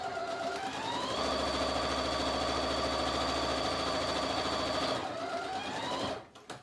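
A domestic sewing machine runs with trilobal polyester embroidery thread, its motor whirring up to a steady, fast stitching drone for about four seconds before slowing and stopping.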